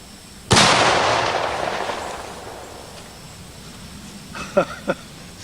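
A single loud, close gunshot from a Thompson Center 50 caliber Scout muzzleloading pistol booms and rolls away in a long decaying echo, followed by a few faint thumps.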